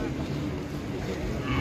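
Cattle at the Mundilan market, a large cow recovered from foot-and-mouth disease, giving a low, drawn-out moo amid steady market background noise.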